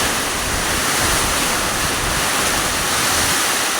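Loud, steady roar of strong typhoon wind in Masbate City, Philippines, buffeting the microphone, a constant broadband rush like surf with no letup.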